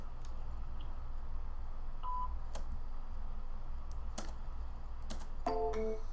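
Telephone dialing during a power-dial sales call: a few short, separate tonal beeps scattered over a low steady hum, ending in a quick cluster of dial tones.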